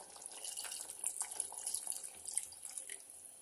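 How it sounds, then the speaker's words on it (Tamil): Water runs into a pot of Madurai-style mutton pepper curry, a soft continuous splashing pour with small gurgling surges, fairly quiet and close, with no talking. "இப்போ குழம்புக்கு தேவையான அளவுக்கு தண்ணி சேர்த்துக்கலாம்"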